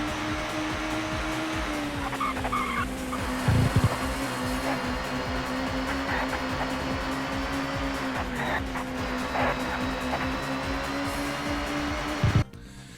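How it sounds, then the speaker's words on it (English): Ford Super Touring race car engine in TOCA Touring Car Championship, a sustained buzzing drone that holds steady with slight pitch dips, a couple of brief clunks along the way, ending abruptly. "The sound of the Ford is actually really nice,"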